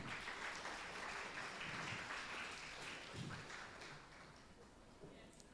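A conference audience at a forage conservation symposium gives a steady round of applause, a dense even patter of many hands that holds for several seconds and tapers slightly toward the end.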